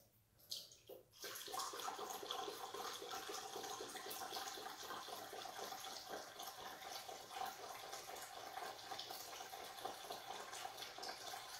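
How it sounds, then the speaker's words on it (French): Water poured from a small cup into a shrimp aquarium, a steady close trickling and splashing that starts after a brief quiet moment and runs on evenly, heard alone. "Alors je me sers de la coupelle."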